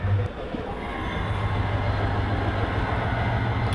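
A train rolls past on the neighbouring line beside a stalled intercity express, a steady loud rumble of wheels and carriages with a low hum and faint rail squeal, continuous throughout.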